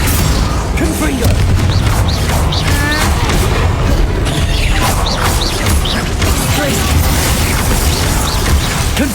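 Dense, continuous battle din from Hogwarts Legacy spell combat, with Bombarda and Confringo blasts thudding and crashing amid clanks and whooshes, loud and unbroken throughout with no clear pauses.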